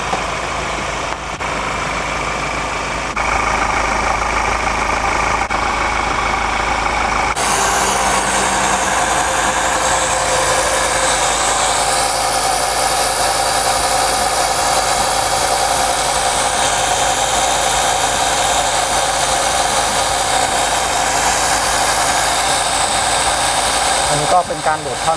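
A machine pumps gear oil into a car gearbox during a fluid change, a loud continuous mechanical whine and hum running steadily throughout, shifting in tone after a few seconds, with someone talking over it.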